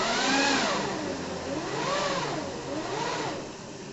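A Sinclair C5 electric vehicle's motor whines steadily and close by, its pitch sweeping up and down in repeated waves as the throttle is turned, with no talking.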